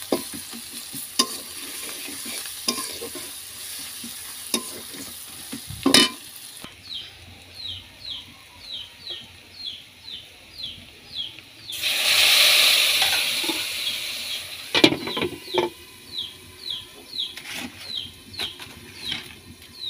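Chopped onion, chopped garlic, dal spices and bay leaf fry in hot oil, sizzling at close range and broken up by sharp scrapes and stirring clatter, with a louder hissing burst near the middle.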